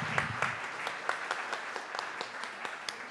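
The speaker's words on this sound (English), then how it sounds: "why don't we have a round of applause really quickly" Audience applause at an arts event, a steady wash of many hands clapping at moderate distance, even and sustained throughout without voices on top.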